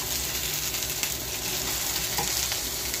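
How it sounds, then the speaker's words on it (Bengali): Potatoes frying in oil in a second kadai, a steady close sizzle and crackle with faint stirring that holds level throughout, no voices. "পাশে আবার একটা কড়াই চাপিয়ে দিলাম, তাতে ভেজে নিচ্ছি"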